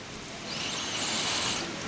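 Steady rain falls outdoors on a morning, a soft continuous hiss that swells slightly and then eases, with a brief louder knock at the very end.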